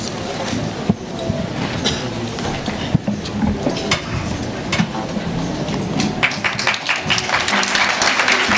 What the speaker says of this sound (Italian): L'applauso per i ragazzi, naturalmente.